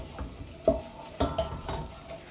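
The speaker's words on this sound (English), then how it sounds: "So you stir that in until it's smooth and bubbly." A spoon scrapes and knocks around a pot while a white sauce with onion is stirred, with several distinct clinks over a soft, steady background.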